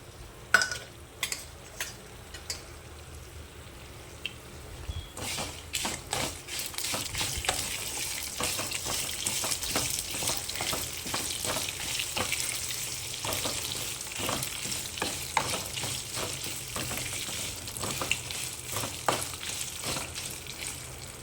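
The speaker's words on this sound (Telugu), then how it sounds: "ఇవి చిట్టుపట్టలాడే వరకు చక్కగా వేయించుకొని ఎర్రగా వేగే వరకు ఉంచుకుంటే చాలండి" Chopped green chilies fry in hot oil in a pan, a steady sizzle rising and holding with scattered pops and crackles, close by and fairly quiet, with a few stirring clicks near the start and no talking.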